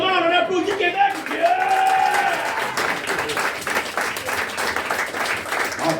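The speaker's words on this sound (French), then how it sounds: "Comment on applaudit Québec?" A comedy show audience breaks into applause after a voice speaks briefly at the start. The clapping swells and carries on, full and fairly close, with crowd noise mixed in.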